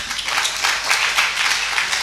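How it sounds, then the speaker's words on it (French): Applause from a church congregation during a French-language worship service, steady broadband clapping lasting a couple of seconds at a moderate, even level with no talk over it. "on peut applaudir David"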